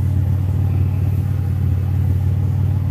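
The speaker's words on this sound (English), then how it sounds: "My damn muffler broke." Exhaust from a 2001 Buick LS with a broken muffler, a steady loud low rumble droning without a break as the engine idles, with no voices over it.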